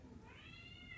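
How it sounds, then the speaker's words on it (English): A house cat meows somewhere in the background of a quiet indoor room, its faint, drawn-out call rising and falling over soft ambient noise, with no one talking. "I can hear my cat in the background."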